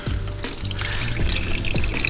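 Oil and water pouring steadily from the drain of a blown supercharged LS3 engine, a continuous close splashing gurgle into a catch pan with no talk.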